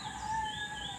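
A rooster crows once at a rural resort in Silang, Cavite, a faint, drawn-out call heard from a distance against quiet surroundings.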